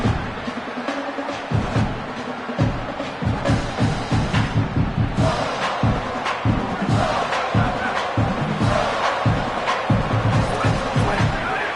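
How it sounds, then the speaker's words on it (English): A football stadium crowd roars through a tackle at the line of scrimmage, loud and sustained, with a quick rhythmic rumble of stamping or clapping pulsing under the noise throughout. "this crowd getting even more juice"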